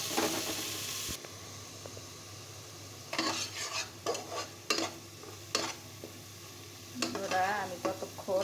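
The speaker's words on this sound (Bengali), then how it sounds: "আমি ততক্ষণ মশলাটা ভাজতে থাকবো, কষাতে থাকবো, যতক্ষণ না উপর থেকে তেলটা উঠে আসে।" Spice paste fries in mustard oil, a low sizzle broken by irregular bursts of spoon-stirring and scraping against the pan, all close by and without talk.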